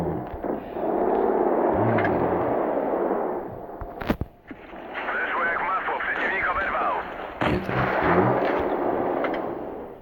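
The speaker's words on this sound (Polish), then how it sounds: "Nie wiem, w co ten spryciarz mi strzela." Artillery cannon fire in a tank video game: two sharp, brief blasts several seconds apart punch through continuous talking by a man, with game noise droning underneath.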